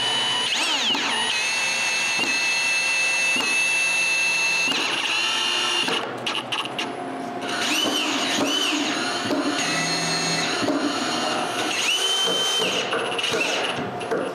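A power drill drives screws to fasten cut wood pieces for a set of false steps, with several bursts of whirring, short pauses and changes in motor pitch, close and loud.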